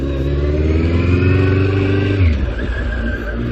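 Road traffic passes a rider on a Suzuki GSX1400, with a loud engine drone whose pitch falls as a vehicle goes by, followed by rougher rumbling and wind noise, close and continuous.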